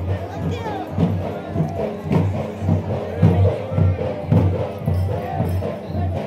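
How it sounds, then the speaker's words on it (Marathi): A crowd gathers for darshan at a Balumama aarti in Sonke village, with loud, close, shifting murmur and voices mixed with people talking nearby. "बघा किती गर्दी झाली बघा आता दर्शनासाठी"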